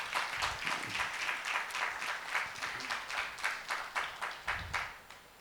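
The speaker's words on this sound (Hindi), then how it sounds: "आइए परमेश्वर के लिए एक बार ताली बजाएंगे हम लोग।" Church congregation at a Sunday service clapping together in a steady, rhythmic beat, about a dozen even claps spread over several seconds, moderately loud in a reverberant hall and fading at the end.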